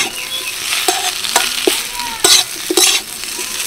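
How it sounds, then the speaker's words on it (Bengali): Spices for a vegetarian mini samosa filling sizzle in a pan while being lightly stirred, with several sharp spatula scrapes and clacks over a constant close frying hiss. "নিচের মশলাগুলো যাতে পুড়ে না যায় তাই হালকা নেড়ে চেড়ে নিচ্ছি।"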